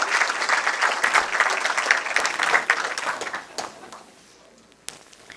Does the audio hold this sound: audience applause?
yes